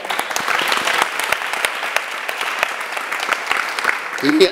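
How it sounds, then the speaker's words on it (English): Dense, loud applause from a crowd at an ISKCON temple gathering, sustained and even throughout, with a voice briefly rising at the very end. "give a big round of applause to Ved Vyas"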